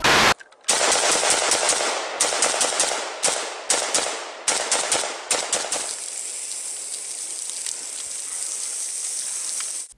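A machine gun fires long, loud, rapid bursts with brief pauses between them, then the firing stops and a steady hiss lingers.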